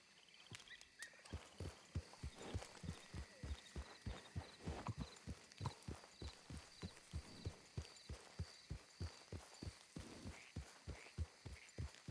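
Steady rhythmic video game horse hoofbeats clip-clop at a walking pace, evenly spaced and fairly close, over a faint background hum.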